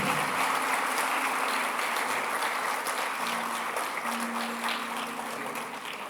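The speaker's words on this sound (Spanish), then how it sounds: "Dale un fuerte aplauso al Señor" A church congregation applauds, a dense continuous wash of clapping that stays loud for several seconds, with faint tones from musical instruments underneath.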